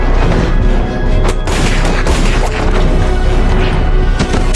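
Dense, loud barrage of gunshots and booming impacts, with sharp cracks layered over a continuous roar of battle, several distinct blasts standing out through the stretch.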